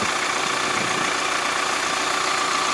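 A 2020 Kubota MZ775 tractor engine idling, a steady, dense diesel rumble with a faint knocking texture, loud and continuous throughout with no voices.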